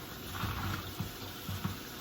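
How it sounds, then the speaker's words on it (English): Cold tap water runs over frozen shrimp to thaw them, a faint, steady close trickle with soft gurgles and small splashes. "I'm putting this on cold water. Let me thaw out."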